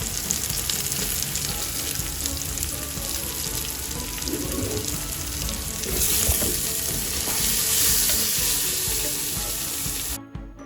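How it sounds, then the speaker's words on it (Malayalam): Onions sauté with curry leaves and salt in a pan for chicken biryani, giving a loud, close, continuous sizzle and crackle with occasional stirring scrapes, which cuts off abruptly at the end. "നമുക്ക് കുറച്ച് ഉപ്പും കൂടി ഇട്ടിട്ട് നമുക്ക് നല്ലോണം വഴറ്റിയെടുക്കാം."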